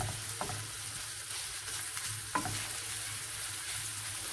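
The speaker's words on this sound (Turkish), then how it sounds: "Kıymamızı güzelce pişiriyoruz." Minced meat fries in a pan with a steady, even sizzle, punctuated by a couple of brief scrapes as it is stirred.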